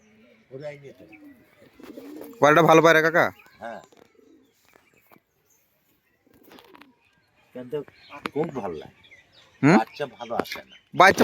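Pigeons coo in soft, throaty bursts at close range, with several separate calls and a few quiet gaps between them.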